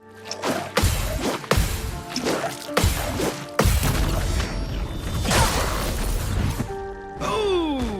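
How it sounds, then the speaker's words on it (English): Loud, close impacts from Clair Obscur: Expedition 33 combat, with heavy parry bonks and sharp smacks striking in quick succession across a dense layer of game battle sound, swishes and a ringing tonal sweep near the end. "you are rewarded with the parry bonk and the smack"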